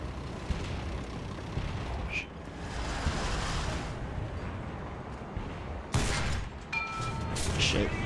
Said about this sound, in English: Shit, he's shooting at me.